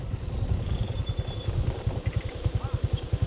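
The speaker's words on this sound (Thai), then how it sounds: "เดี๋ยวเรามาชมทีมงานรถไถซิ่งว้าว" A modified racing farm tractor, stuck in mud, chugs with a close, low, pulsing engine beat that grows sharper and more rhythmic toward the end.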